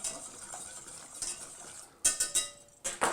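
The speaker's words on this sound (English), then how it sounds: "We'll use a whisk." A whisk scrapes and clinks against a pot of gravy at a rolling boil, with a soft bubbling sizzle underneath and a few sharper metallic taps and strokes near the end, close and moderately loud.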